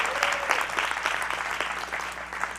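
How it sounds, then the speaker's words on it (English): A church congregation claps hands steadily through the whole stretch, a dense, continuous wash of many hands at moderate loudness with no voices on top. "Y'all give me a hand clap."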